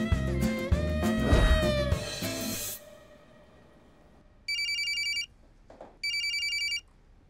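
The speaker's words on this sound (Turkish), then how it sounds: "O zaman ben bir Feride'yi arayayım ya" A telephone rings back in two repeated electronic bursts while a call is being placed, following a loud stretch of music and noise that fades out; near and clear with no talking.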